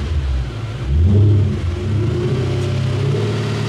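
A Mercedes C63 AMG engine, fitted with a lambda support, revs up in one rising surge that peaks and settles back to a steady, throaty idle-like drone, close and loud with no talking.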